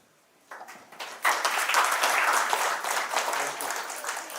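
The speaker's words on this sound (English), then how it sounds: "Thank you for that warm applause." Applause from a seminar audience at a JEE coaching event breaks out after a short quiet start, building quickly into dense, warm clapping that holds steady and loud to the end.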